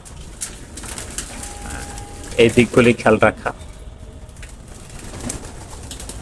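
Racer pigeons coo in their loft, a short cluster of throaty coos rising midway through, with a person talking steadily over the whole stretch.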